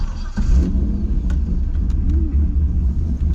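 A Chevrolet Corvette C5 engine rumbles low and steady from inside the car while driving, with a brief surge near the start and faint clicks and road noise under the drone.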